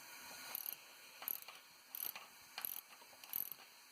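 A ratchet wrench with an 11/16 socket cranks down a bolt on an LT1 engine, clicking in five short quick bursts at a steady pace, close and fairly quiet.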